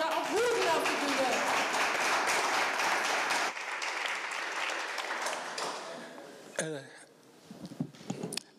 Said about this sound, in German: begrüßen wir mal mit einem riesigen Applaus